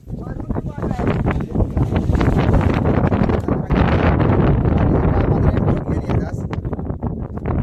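Strong monsoon wind on Kalsubai peak buffets the microphone in rough, continuous gusts, a loud blustery roar with faint voices underneath.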